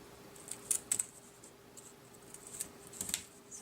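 Scissors snip the corners of paper for a baby album, giving a few faint, crisp cuts in two small clusters against a quiet room.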